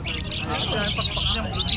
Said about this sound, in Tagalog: nandito tayo naman sa mga ibon ni Sir Marvin